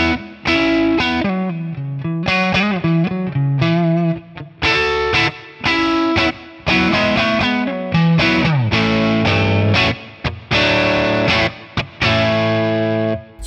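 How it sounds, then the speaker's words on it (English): A 1963 Fender Brown Deluxe electric guitar amp with a crunchy, mildly distorted tone plays chords and short riffs, washed in a smooth plate reverb tail between phrases. "Really nice crunch tone. Let's add some reverb to it. Some plate."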